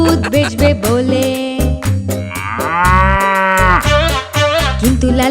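A cow lows inside a narrated children's story about a man who keeps a cow to sell its milk. Several long, drawn-out moos sit over a steady musical backing, the longest swelling loud near the middle.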